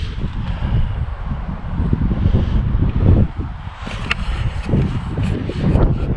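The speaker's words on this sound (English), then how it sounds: "the wind is already coming towards me from Bethgelert, so from the sea" Steady wind coming off the sea near Beddgelert buffets the microphone with a constant low rumble and gusty swells, loud and close throughout with no talking.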